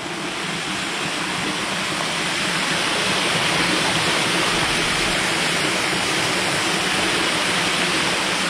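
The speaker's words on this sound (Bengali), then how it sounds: "এই দিক দিয়ে জলটা বেরিয়ে যাচ্ছে" A waterfall at a Purulia beauty spot pours out steadily, a dense, continuous broadband roar close by with no pauses and no voices.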